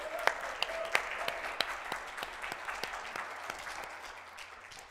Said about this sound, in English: So, Deborah, please stand and allow us to applaud your generous and loving service